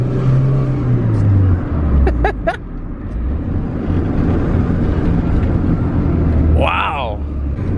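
A Honda EF hatchback with a swapped B17a1 engine and stock ECU drives steadily with a low, fairly quiet engine drone and road rumble, while someone talks over it.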